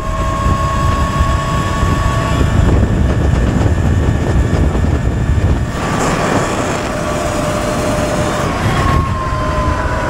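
Talaria MX5 Pro electric motorbike accelerating hard toward 70 km/h, a steady loud whine rising in pitch over heavy wind and road rush, continuous and close.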